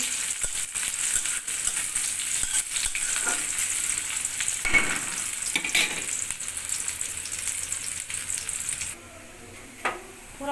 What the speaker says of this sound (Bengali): এখন দিব কয়েকটা পেঁয়াজ কুচি, ফোড়নটা ভালো করে ভেজে নেব